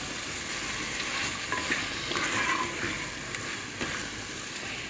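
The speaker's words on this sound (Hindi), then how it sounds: "अब मैं इसमें चिकन ऐड कर दूंगी और इसको अच्छे से चिकन को भून लूँगी।" Chicken fries in a thick spiced masala, a dense close sizzle with intermittent stirring scrapes and spatula knocks throughout. No voices.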